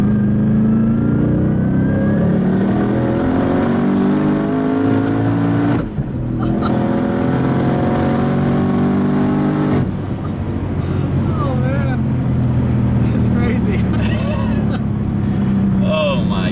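A 1,000 hp twin-turbo RTR Mustang GT with traction control off accelerates hard in third gear, its engine note climbing loud and close through a long sustained pull, with a shift break midway, as people talk over it inside the car.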